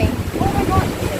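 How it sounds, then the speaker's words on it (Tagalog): Strong wind roars and buffets the microphone on an island boat trip, loud and gusty, with voices talking under the rush. "Ang lakas ang impact ng hangin, te."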